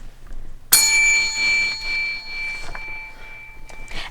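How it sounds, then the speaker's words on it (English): A doorbell rings once with a bright, sustained chime that rings out and slowly fades over a few seconds against a quiet background. "the doorbell rang"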